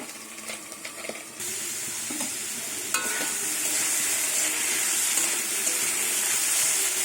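Banana stem fries in a pan, a continuous close sizzle that swells after a few seconds, with clinks and scrapes of stirring early on and no speech.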